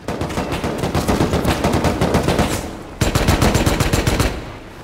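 Rapid automatic gunfire in a Rust-style survival game, loud sustained bursts of close shots running almost continuously, with a brief break near the three-second mark before another dense burst.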